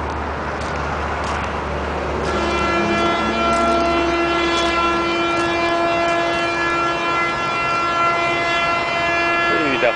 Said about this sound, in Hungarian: De hosszat dudáltak, de ez nem mi voltunk, nem a Fordka.